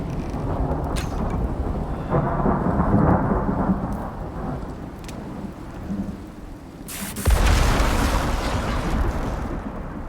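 Thunder and heavy rain from a storm in the survival game Icarus: continuous pattering downpour with low rolling rumbles, then a sudden sharp, loud thunderclap near the end that crashes and rumbles on under the rain.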